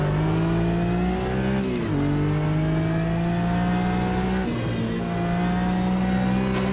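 A Porsche race car engine drones steadily at Interlagos in Automobilista 2, loud and close, its pitch dipping briefly on two gear shifts before rising again.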